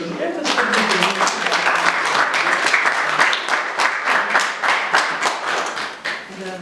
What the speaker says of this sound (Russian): так похлопаем.